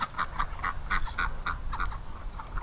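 Ducks quack over and over in a steady string of nasal calls, close and fairly loud, against quiet background hiss, with no voices.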